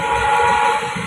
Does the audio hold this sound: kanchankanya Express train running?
yes